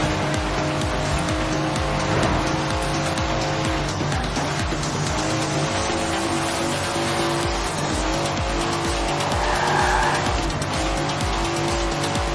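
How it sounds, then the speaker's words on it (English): A Datsun car engine in the racing game Forza Horizon 4, a continuous loud droning engine with tire squeal and skidding layered over it throughout. "Never heard a Datsun sound like that, have you?"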